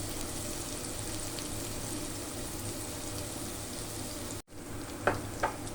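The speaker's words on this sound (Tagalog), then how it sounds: "Gisa lang natin guys, gisa-gisa." Garlic and onion sauté in a pan with a soft, continuous sizzle, broken by a brief dropout and followed by a couple of sharp stirring scrapes near the end.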